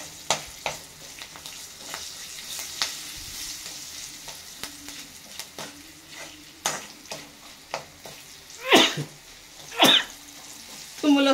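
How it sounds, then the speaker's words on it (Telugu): A man sneezes twice in quick succession, set off by pungent green chili tempering fumes, over a steady background of food frying and a spoon stirring in a pan. "బగార పోపుకి ఘాటుకి తుమ్ములు వస్తుంది."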